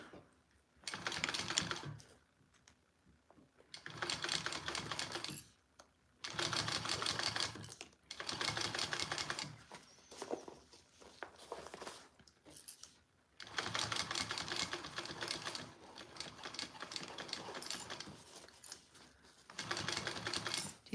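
A sewing machine stitches fold-over elastic onto a Sue Sue Sling at a quarter-inch seam, running in several loud bursts of rapid mechanical chatter separated by short pauses, close up and with no talking.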